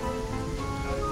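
Rain falls in the video game Yooka-Laylee, a dense, even hiss of drops on surfaces that holds steady throughout without any talk.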